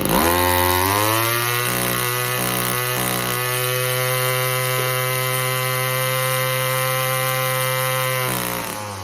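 A Tanaka two-stroke weed eater engine revs up from idle to a loud, sustained high-pitched buzzing whine, held steady at close range before dropping off at the end, with no talking.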